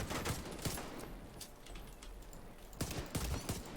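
Gunshots from The Division 2 using the Liberty Wolf build, sharp loud reports in quick clusters at the start and again near the end, with a quieter gap between them.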